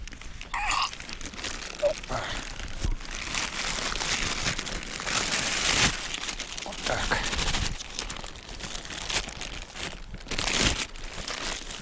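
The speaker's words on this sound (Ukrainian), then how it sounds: "Кину його в пакет." Crinkly plastic rustling and crumpling as a caught fish is put into a plastic bag, close and fairly loud, with bursts of handling noise throughout.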